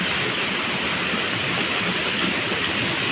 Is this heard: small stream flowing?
yes